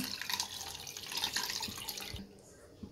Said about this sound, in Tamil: புளி எடுத்து நல்லா ஊற வச்சு கரைச்சி வச்சுருக்கேன். இது இதில் சேர்த்துக்கலாம்.